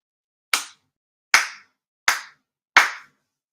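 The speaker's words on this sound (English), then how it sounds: "4 sincere claps" Four ritual hand claps at a Shinto prayer service, sharp and close, evenly spaced and ringing out alone in silence with a short decay after each.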